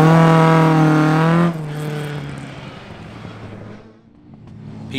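A Mk2 rally car races past on a stage at Aghadowey, its engine note loud and close at first, then dropping in pitch and fading into the distance.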